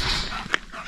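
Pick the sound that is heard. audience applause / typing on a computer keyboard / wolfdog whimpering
wolfdog whimpering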